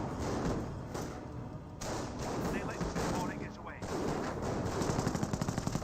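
Battlefield gunfire in Company of Heroes: sustained machine-gun bursts and rifle shots crackle under a commentator's voice, with a rapid rhythmic volley of evenly spaced shots toward the end.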